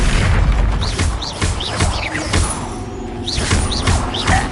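Incendio fire spell cast in combat in Hogwarts Legacy, a string of loud whooshing bursts and booms with bright crackling flares repeating over a churning rumble of battle.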